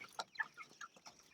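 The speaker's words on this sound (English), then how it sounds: "Plymouth Rock chickens." Plymouth Rock chickens give faint, close clucks, about five short soft calls in quick succession over a little more than a second.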